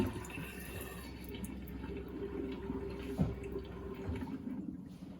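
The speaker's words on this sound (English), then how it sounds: "the machine will automatically flush the water for 5 seconds" Water runs and trickles steadily from a Deepuro reverse osmosis filtration system during its automatic flush, a faint continuous splashing flow with a few small drips, alone without talk.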